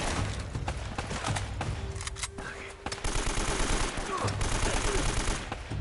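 An AK rifle fires in Uncharted: The Nathan Drake Collection. Fast, loud automatic bursts of gunfire rattle almost continuously for several seconds, with a brief dip in the middle.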